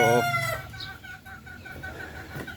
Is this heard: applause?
no